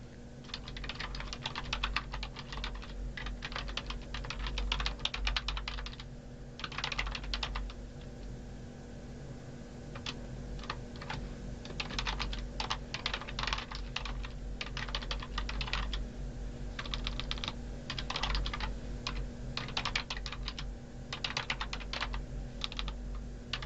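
Steady close-up typing of R code on a computer keyboard, quick clusters of key clicks with short gaps, quiet and continuous with no talk.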